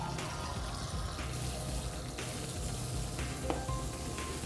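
Tap water runs steadily into a sample glass, a faint continuous hiss and splash with no talk.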